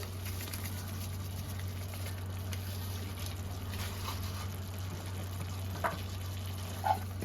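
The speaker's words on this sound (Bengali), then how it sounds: "এবার ভালো করে মিশিয়ে দু মিনিট কষিয়ে নেব" Spice paste for duck egg curry with Kashmiri chilli powder and a splash of water, frying and being stirred in a pan: a soft steady sizzle under a low hum, with a couple of faint scrapes near the end.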